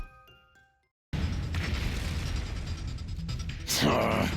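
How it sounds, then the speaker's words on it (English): An explosion in the video game The Hundred Line: Last Defense bursts in after a moment of near silence as a sudden loud boom, then a sustained rumble with a second surge near the end. "another explosion"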